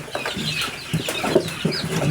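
Chickens on a small farm cluck in short, soft bursts close by, with a few brief louder calls over steady low rustling background noise.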